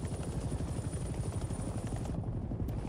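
Steady, loud rotor roar and engine drone of a helicopter in flight in the Vietnam-era video game Hell Let Loose, continuous and dense throughout with no voices.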